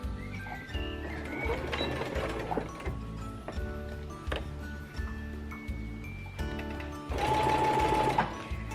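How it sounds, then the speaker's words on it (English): A sewing machine stitches quilt binding around the edge with a 1/4 inch seam, its steady rapid motor hum pulsing in short bursts and pauses, close and fairly loud, with a brief higher whir near the end. "I'm just going to start sewing around the edge with a 1/4 inch seam"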